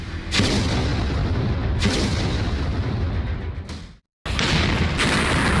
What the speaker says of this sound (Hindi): गोलियों की आवाज से एक बार फिर थर्राया ओक्साना शहर।